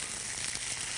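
Tenderloins fry in a hot pan with oil for a Hungarian dish, giving a loud, steady, dense sizzle that fills the short moment with no voices.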